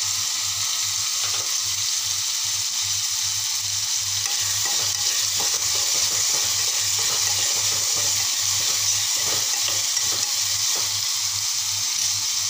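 Tomatoes softening in a pan for egg bhurji, with a steady, even sizzle and faint stirring scrapes throughout, close and loud, with no talk.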